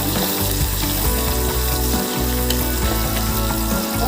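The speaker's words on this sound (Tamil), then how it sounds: "கருவேப்பிலை நல்லா வதக்கிக்கலாம்." Curry leaves sauté in oil, among onions already softened, for a mutton patani gravy: a steady, loud, dense sizzle with scraping and rattling stir sounds running throughout, and no talking.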